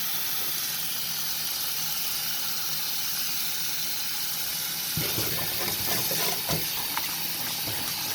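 Water pouring and hissing through a strainer while hibiscus is strained in a kitchen, a steady running stream that grows more splashy and uneven toward the end.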